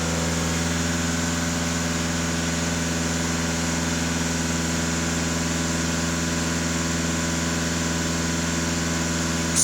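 VW Passat 2.0 TDI diesel engine held at raised revs around 2500 rpm during an AdBlue system cleaning, a steady, loud, unchanging hum with strong low harmonics throughout, no voices.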